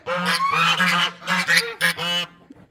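Repeated loud, harsh honking calls of guinea fowl, several bursts in quick succession, close by with brief gaps between.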